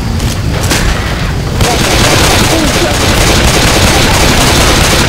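Dense, continuous gunfire from zombie-shooting in Left 4 Dead 2, loud bursts overlapping with booms and chaotic game noise throughout, with players' voices mixed in underneath.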